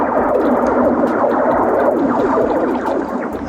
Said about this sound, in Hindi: असल में टेम्परेचर चेंज होने के कारण बर्फ लगातार फैलती है, सिकुड़ती है और उसमें दरारें पड़ती हैं,